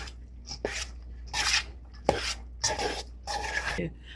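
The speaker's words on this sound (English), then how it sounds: "we're going in with our cooked rice. And we're going to get this mixed up" A spoon scrapes and pushes cooked rice through a chicken and spinach casserole mixture in a bowl, making several close, rhythmic rubbing strokes with brief gaps between them and no talk.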